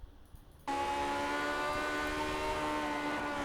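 A Lotus 49 racing car engine in the iRacing video game at Silverstone roars in suddenly after a quiet start, holding a steady high-pitched whine at constant revs in fourth gear, loud and close.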